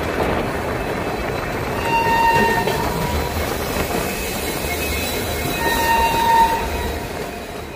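The 12319 Kolkata Gwalior Superfast Express stands at Kannauj station with a close, steady rumble. Two brief tonal horn-like notes sound, several seconds apart.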